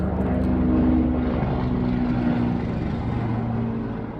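A helicopter flies overhead with a steady, fairly close droning rumble that fades slightly toward the end.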